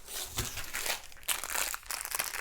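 A package containing a mini split's line set, wiring and thumb gum is handled close up, with irregular plastic crinkling and rustling bursts.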